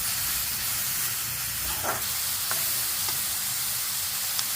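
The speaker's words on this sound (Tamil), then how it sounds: "இஞ்சி பூண்டு பேஸ்ட்டு 1 ஸ்பூன் போட்டு நல்லா வதக்கிடணும்." Ginger garlic paste and tomatoes sizzle and fry in a hot pan, a steady loud hiss with a few scraping stirs of a spoon.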